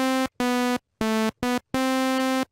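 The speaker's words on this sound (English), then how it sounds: "I'm thinking that it's a sawtooth wave." A buzzy, bright sawtooth-wave synthesizer tone from the Tracktion Micro synth plays in short on-off bursts of varying length, harmonically rich and sharp, alone and clear.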